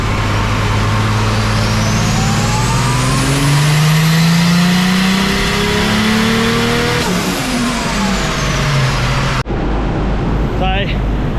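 A turbocharged car engine with a 38mm wastegate and 7 psi spring pulls hard under boost toward 20 psi, a loud rising drone that climbs in pitch, dips around a gear change and cuts off abruptly near the end.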